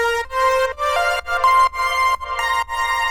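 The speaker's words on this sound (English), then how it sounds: "It's a saw wave with 16 voices of unison" Bright saw-wave synth lead stacked with 16 unison voices for a remake, playing a sustained melodic phrase of held notes with short gaps, upfront and unaccompanied.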